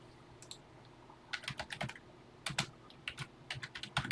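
Keys clatter on a TI-99/4A home computer keyboard as a BASIC line is entered, in short irregular bursts of clicks with brief pauses, fairly close but quiet over a low steady hum.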